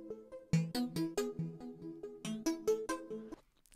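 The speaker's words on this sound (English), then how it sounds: "I'm talking about one of the pluck arpeggios that we built. It sounds like this without any compression." Synth pluck arpeggio from Logic Pro, left uncompressed, with bright, sharp plucked notes stepping in a steady rhythm and clear swings between louder and quieter hits. It plays alone for about three and a half seconds before cutting off.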